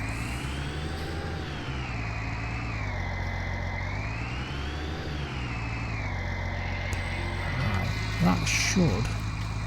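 Tractor engine in Farming Simulator 19, a steady low drone whose pitch slowly rises and falls, continuous throughout, with someone talking near the end.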